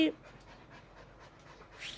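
A Siberian husky panting after running out of the house, heard as a steady series of quick, breathy huffs close by, with a louder burst of sound at the start and a rise near the end.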